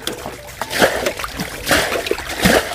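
Water splashes and sloshes as fish are caught by hand in a shallow village pond. The splashing is close, continuous and uneven, with louder surges at intervals and faint voices in the background.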